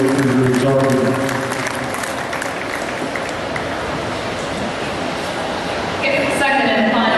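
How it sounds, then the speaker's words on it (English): An audience at a 2012 goat show claps steadily for several seconds, a continuous wash of applause with a voice speaking over it at the beginning and again near the end. "give these kids one more round of applause"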